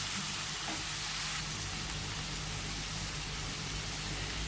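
Onions and tomatoes sauté in a pan for a Spanish omelette, giving a constant, close, hissing sizzle with faint stirring underneath and no voices.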